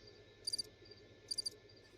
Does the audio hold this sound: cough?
no